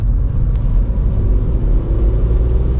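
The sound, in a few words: VW Up GTI accelerating in third gear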